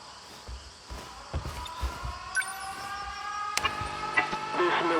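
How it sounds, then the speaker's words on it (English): Air raid sirens wail in the video game 13 Sentinels: Aegis Rim, several rising and falling tones layered over game music and soft thuds, growing louder toward the end. "Air raid alarms have been sounded."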